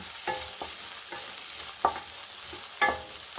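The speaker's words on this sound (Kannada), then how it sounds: "ಇದು ಸಹ ಒಂದು 2 ನಿಮಿಷ ಫ್ರೈ ಮಾಡೋಣ." Boiled green peas frying in a pan with a steady low sizzle, broken by a few sharp scrapes and knocks of a spoon stirring, no voices.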